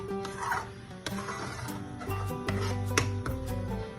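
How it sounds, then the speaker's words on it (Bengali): Bengali-style bharta being stirred and mashed by hand or spoon after coming out of a grinder, giving soft, steady scraping and squelching strokes with faint clinks of a utensil against the bowl throughout. "আর এটাকে এখন আমি ভালো করে নাড়িয়ে চাড়িয়ে একদম গামাখা গামাখা করব"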